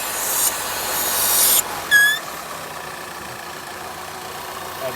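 A 1990 Plymouth Acclaim with a vacuum leak idles ridiculously high. A loud airy hiss stops with a brief whistling squeal, then a steady, quieter engine drone carries on alone.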